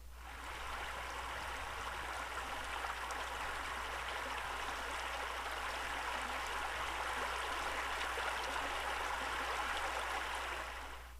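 Steady, broad rushing of the deep, flowing Noatak River in remote Alaska, continuous and even throughout with no voices.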